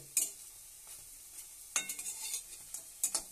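Pumpkin fritters (kumro bora) are lifted one by one out of hot frying oil with a metal spatula, giving light scrapes and taps over a soft sizzle, with a few sharper clinks spaced through the moment.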